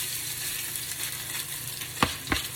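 Salmon croquette patties fry in a pan with a steady close sizzle, and at the end a few sharp scrapes and clatters come from the patties being moved around.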